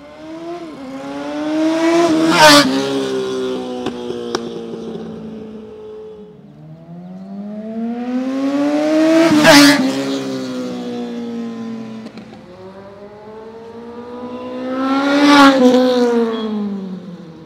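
Powerful Kawasaki Ninja ZX6R superbike engines rev up and roar past one after another, three loud surges rising in pitch and fading as each bike rides away.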